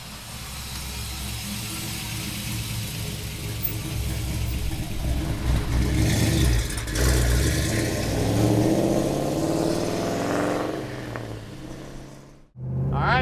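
A 1969 Chevrolet Camaro restomod's V8 rumbles and revs, the engine note swelling and climbing as it accelerates, then cutting off abruptly near the end.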